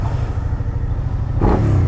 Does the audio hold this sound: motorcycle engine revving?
yes